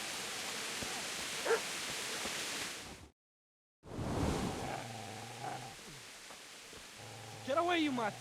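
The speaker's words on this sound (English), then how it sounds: "Where the hell is this dog at?" A dog in the medieval game Kingdom Come Deliverance barks and yips several times near the end, after a stretch of background noise and a brief gap, with talking in between.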